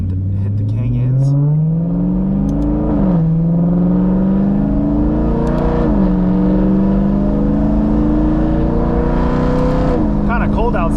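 A BMW M3 accelerates along a canyon road, the engine note climbing through the gears with clear pitch drops at each upshift, loud and close from inside the cabin.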